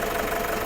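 A Toyota Fortuner engine runs steadily up close with the bonnet open, a continuous mid-pitched hum and rumble with no clear rise in revs.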